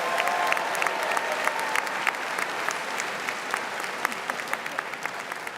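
Commencement audience applauds graduates at an undergraduate ceremony, a dense steady clapping from a large crowd with sharp individual claps standing out, sustained throughout.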